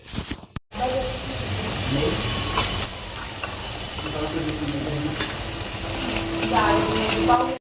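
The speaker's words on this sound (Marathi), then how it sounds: "वाटणही यामध्ये टाकून द्यायचं मस्त असं तेल सुटेपर्यंत परतून घ्यायचं आहे" Black masala paste being sautéed in oil in a pan, with a continuous close sizzle and intermittent stirring scrapes after a brief silent start.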